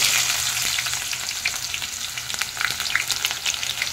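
Mustard and other tempering seeds, dried red chillies and onions fry in hot oil, giving a steady close sizzle with scattered sharp crackles and pops throughout.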